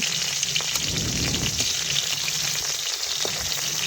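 Slices of catla fish fry in hot oil with a steady, close crackling sizzle and scattered pops, continuous and fairly loud with no voices.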